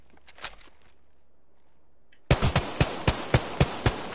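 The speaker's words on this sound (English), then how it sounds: "Getting shot at." Rapid gunfire in a ranked online shooter video game: a faint shot or two, then a loud burst of about eight sharp reports in quick, slightly uneven succession, up close.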